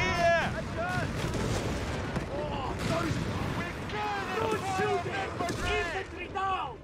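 Airburst artillery explosions in a Company of Heroes 3 North Africa battle, booming blasts and rumbling gunfire under steady in-game unit voices and commentary talk.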